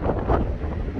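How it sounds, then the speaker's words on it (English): Wind gusting outdoors beside a reservoir on an early spring day, a steady low rush buffeting the microphone throughout the brief moment, with no voices. "the wind's getting up a bit now"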